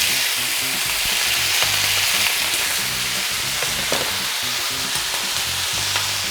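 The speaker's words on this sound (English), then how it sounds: "we're gonna cook this on high heat for about good 2 minutes. We just wanna kind of crispen up the noodles." Noodles fry in oil in a hot nonstick pan, giving a loud, continuous close sizzle with faint crackles throughout.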